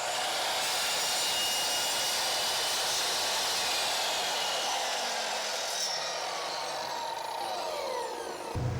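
A miter saw set to a 45-degree angle cuts through a length of crown molding, a loud sustained whining roar that runs almost the whole time and ends with a drop as the blade spins down.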